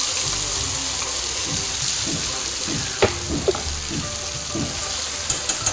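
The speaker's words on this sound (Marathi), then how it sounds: "कढईमध्ये तेल घालायचं, त्यामध्ये हे वाटण घालून घ्यायचं।" Steady hissing sizzle of ground spice paste frying in hot oil in a kadhai for paneer masala, continuous throughout, with a few soft knocks and clicks of utensils.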